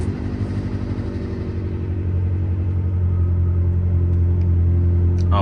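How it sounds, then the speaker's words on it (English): A Ferrari 360 engine on a cold start idles with a deep, steady rumble that grows slightly louder and settles, close by, with no talking. "Nothing quite beats a cold start."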